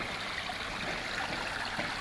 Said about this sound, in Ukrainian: Ось такий чарівний вигляд струмочка